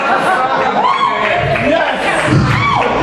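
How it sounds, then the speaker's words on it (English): A small audience at a punk rock show in Boise cheers and whoops, with chatter and shouting mixed into a steady, close crowd roar. "This crowd is small but fierce,"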